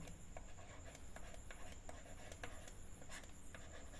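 A pen scratches across paper while maths notes on a wheel's circumference are written out, a faint, close, continuous scribble broken by small taps and strokes, with no talking.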